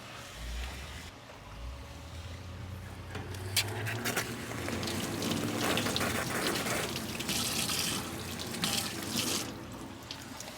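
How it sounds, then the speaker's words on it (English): Water runs steadily from a kitchen sink tap while green onions are rinsed under it, a continuous close gush with small splashing shifts as the stream hits the produce, no talking. "So I'm going to hit the sink real quick and get these rinsed off."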